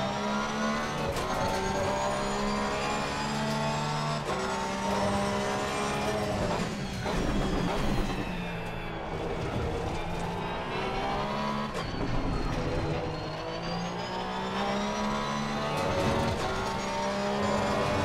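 Porsche race car engine in Assetto Corsa Competizione at Misano, a loud continuous howl rising and falling through gear changes and revs, with steady harmonic engine tones and no talking.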